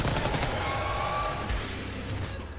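Rapid gunfire crackles in Call of Duty Black Ops 6, dense bursts of shots at moderate volume, tapering off slightly toward the end.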